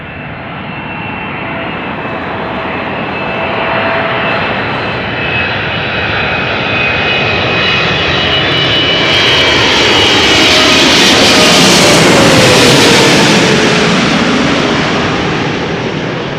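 An aircraft arriving at Amsterdam Schiphol Airport passes up close as a loud, broad jet-engine roar that steadily builds, swells to a peak overhead and begins to fade, with no voices.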